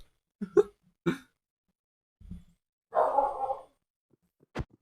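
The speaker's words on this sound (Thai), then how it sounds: "หมามันเห่าอะไรวะทุกคน" A dog in the Minecraft video game barks in several short, sharp bursts, spaced irregularly across a mostly quiet stretch, with faint game sounds between them.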